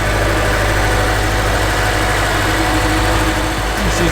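A Honda engine in a drift car idles steadily, a loud, close, even rumble with slight vibration that holds for the whole stretch, with no voices.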